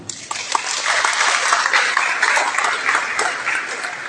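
Audience applause fills a seminar hall at an international Islamic studies seminar, a dense, steady wash of many hands clapping for about four seconds with no speech over it.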